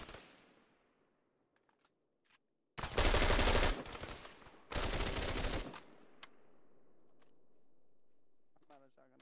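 Shotgun blasts and rapid gunfire ring out in the military shooter game Arma 3 during a Texas-themed PvP event, two loud sustained bursts of fire separated by a brief gap, with scattered quieter shots and clicks around them.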